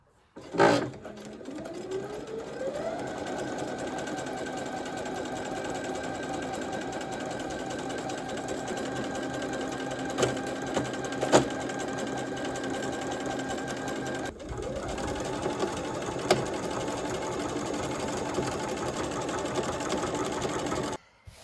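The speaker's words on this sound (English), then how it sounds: "I'm going to take this to my sewing machine" A sewing machine stitches fabric strips with lace, running continuously with a steady mechanical whir, briefly pausing and restarting partway through, close and fairly loud.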